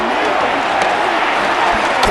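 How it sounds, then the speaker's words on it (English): Dense, steady roar of a stadium crowd in Madden NFL 26 during a Seattle Seahawks versus Washington Commanders game, loud and continuous, with faint thumps rising through the broad wash of noise. "The crowd making their presence felt."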